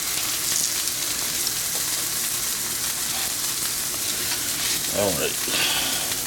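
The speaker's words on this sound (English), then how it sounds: "we're gonna put our steak in. I like to push it down, as always. While that one is starting to sear" Steak searing in a hot skillet, a steady dense sizzle and crackle throughout, with a short spoken word near the end.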